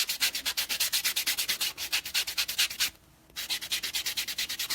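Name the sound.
buffing nails before applying dip powder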